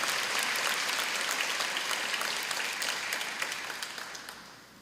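A church congregation bursts into sustained applause, a thick wash of many hands clapping that holds steady and then gradually fades toward the end, with no voices over it.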